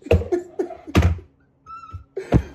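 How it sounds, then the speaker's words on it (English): Several sharp thumps and clatters of puzzle pieces hitting a hard floor, spaced irregularly, with a brief tonal beep in between. "the sound of my puzzle pieces hitting the floor"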